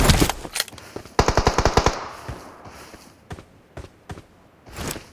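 Close automatic gunfire in PUBG Mobile rattles out in a rapid burst of about eight shots, with scattered single shots and distant bursts following it.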